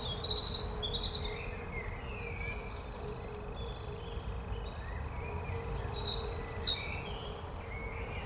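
Birds chirp and trill outdoors in short, scattered calls, fairly faint against a steady hum of insects and ambient background noise.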